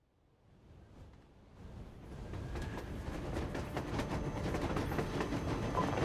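A railcar rumbles along rails in a Metro video game setting, growing steadily louder over a few seconds into a continuous dense roar with faint rhythmic clatter and no voices.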